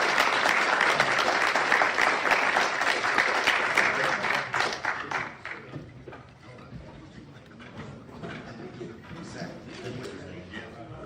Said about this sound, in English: I think we owe these folks a great round of applause.